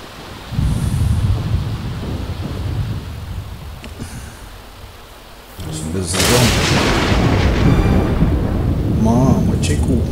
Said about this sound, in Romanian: Mamă, ce cu fulgerile astea